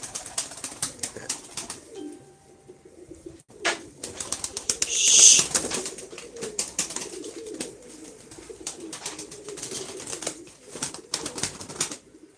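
Pigeons in a loft cooing low and repeatedly, with bursts of wing flapping and fluttering close by, one louder flurry near the middle, steady birdy activity throughout.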